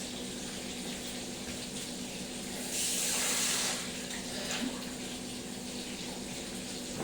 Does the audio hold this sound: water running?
yes